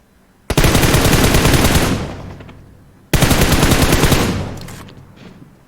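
Automatic gunfire in a shooter video game comes as two loud, rapid bursts, each starting sharply and trailing off into echo, with a short pause between them.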